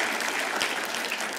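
Audience applause at a talk on archives and diversity, a dense steady wash of many hands clapping throughout the short moment, fairly soft and even with no voices over it.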